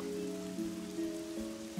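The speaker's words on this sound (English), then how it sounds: "you got the water, you got the trees, you got the sound of the rain" Steady rain falls in the video game Fable, with a continuous patter heard alone alongside a faint tonal hum from the game's ambience.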